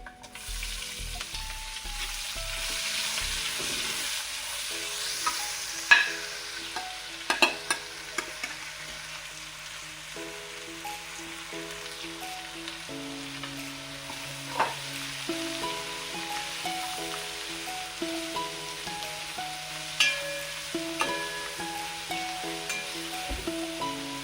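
Sliced onion fries in hot oil in a pan for curry, giving a steady soft sizzle broken by scraping stirs and occasional clinks of the spatula, close and fairly quiet with no talking.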